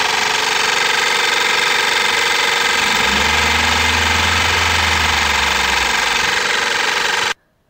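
A 12 V car air compressor runs steadily and loudly throughout, its mechanical rattle joined midway by the low hum of the car's engine idling, then cutting off abruptly near the end.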